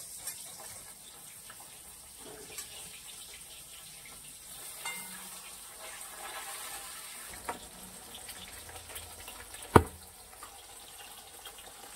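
Fish fries in hot oil in a home kitchen, giving a constant close sizzle broken by scattered spattering pops and one sharp, loud burst near the end.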